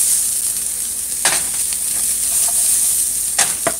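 Pork rendering and frying in its own fat in a pot, a loud, continuous close-up sizzle with occasional spoon scrapes as it is stirred, no one speaking.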